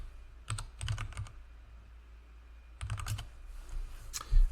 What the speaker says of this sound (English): so here we can type commands like imagine